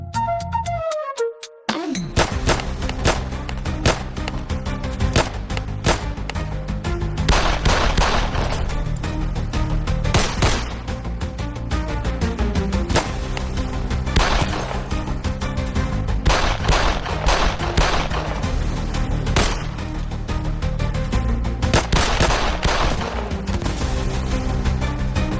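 Dense, continuous gunfire, rapid repeated cracks and bursts with heavy low rumbling, loud and sustained after a brief quieter moment at the start.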